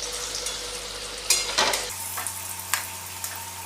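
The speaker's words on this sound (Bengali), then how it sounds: "এরকম করে সবগুলো ভেজে তুলে নেব।" Chana dal dhoka, small lentil cakes, fry over a low flame in a pan, giving a steady sizzle with a few sharp scraping stirs and clinks, no talk.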